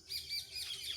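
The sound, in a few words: parrots calling from coconut trees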